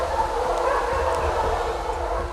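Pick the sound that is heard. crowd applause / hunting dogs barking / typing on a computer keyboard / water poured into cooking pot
hunting dogs barking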